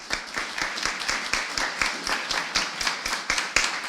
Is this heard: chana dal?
no